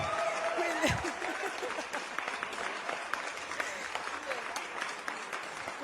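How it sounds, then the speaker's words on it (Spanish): Studio audience clapping after a zapateo dance performance of the Chimaychi style from Peru, steady dense applause with a few cheers and a voice calling out near the start. "qué palmas"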